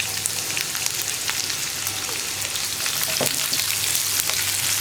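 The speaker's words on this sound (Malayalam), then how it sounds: "ഇനി നമുക്കിതിലേക്ക് സവോള കട്ട് ചെയ്ത് ചേർത്ത് കൊടുക്കാം" Chopped onion added to hot oil with garlic for a potato masala, frying with a steady crackling sizzle and occasional stirring clicks, no speech.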